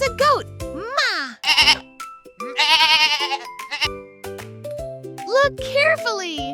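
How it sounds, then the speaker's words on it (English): A goat bleats in several wavering, quavering calls, loud and close, mixed with a voice and a light jingling music bed. "It's a goat! Ma!"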